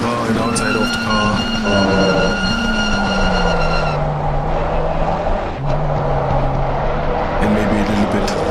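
A race car engine in Assetto Corsa Competizione at Spa-Francorchamps hums with a loud, continuous tone that swells and dips as revs shift, while a voice talks over it.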